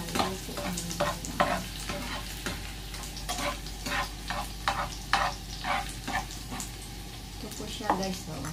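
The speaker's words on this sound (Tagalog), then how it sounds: "Haluin natin hanggang maluto ang mantika." Shrimp frying in oil while being stirred, a steady close sizzle broken by repeated scraping strokes of a utensil against the pan, with a faint voice now and then underneath.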